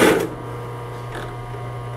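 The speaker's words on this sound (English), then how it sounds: "Now we're ready to sew." A Singer 111W151 needle-feed industrial sewing machine stitching at five stitches per inch, giving a steady, low motor hum after a brief louder knock at the start, with no talking.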